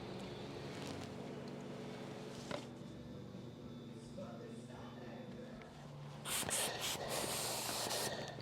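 A spray gun lays a light first coat of paint on a 1932 Ford dash, with a low steady hum and voice early on, then several close, loud hissing bursts of spraying in the last couple of seconds.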